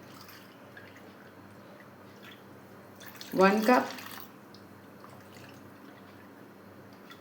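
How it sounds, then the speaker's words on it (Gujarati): Water is poured from a cup into a bowl of yogurt and gram flour for matar kadhi. It gives a short glugging splash of about half a second, close and clear, and a voice speaks briefly before it. "હવે મેં આ માપનું દહીં લીધું હતું એ હું 2 કપ પાણી નાખીશ કરીને"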